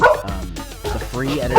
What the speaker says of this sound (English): That's a dog. That is a dog.